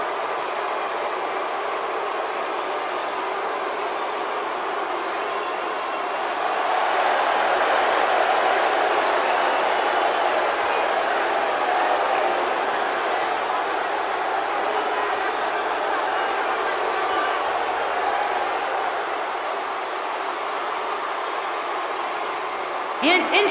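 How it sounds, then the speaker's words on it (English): An arena crowd roars throughout a WWE 2K18 Triple Threat wrestling match between Kurt Angle, Roman Reigns and Goldberg. The steady, dense wash of cheering holds for over twenty seconds and swells slightly partway through. "it sounds to me like the crowd is more than ready for this one"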